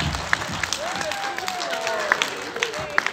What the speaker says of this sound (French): c'est maintenant on va applaudir